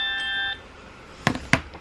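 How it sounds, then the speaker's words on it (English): A phone alarm goes off in a bedroom in the morning: a brief chiming tone that stops, followed by a couple of soft knocks or thuds, close by and moderately loud. "That's my alarm."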